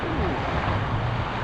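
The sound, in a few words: strong ocean waves at the beach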